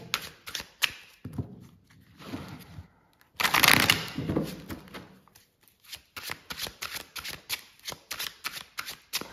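Tarot cards riffled and shuffled at close range in bursts of crisp flapping and rapid clicking, with a denser shuffle in the middle and quick taps as cards are dealt out near the end.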